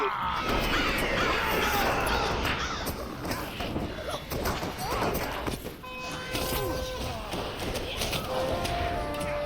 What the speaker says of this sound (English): How apropos that it conjures up a pile of birds.